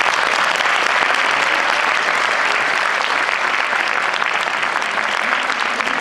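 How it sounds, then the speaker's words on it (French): Sustained, dense applause from an audience at the Trophées des champions, honoring young player Timothée Erard, a steady wash of many clapping hands continuing loudly and evenly throughout. "que je vous demande d'applaudir"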